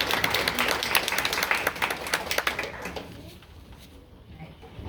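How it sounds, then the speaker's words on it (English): Audience applause for student panelists at a university transfer event, a dense, even wash of clapping that thins and fades out over the last seconds. "So can we give a round of applause?"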